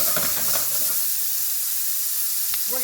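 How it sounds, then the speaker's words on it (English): Onions, peppers and celery sear in hot oil in a pan for a gumbo, a steady close sizzle and hiss with a few soft stirring clatters at the start. "We're going to let this sear off until the onions start to turn translucent"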